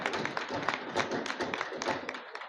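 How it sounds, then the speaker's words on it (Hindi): An audience applauds at a public speech, with a dense, fairly faint spread of hand claps that holds steady throughout. "उसके लिए जोरदार तालियां"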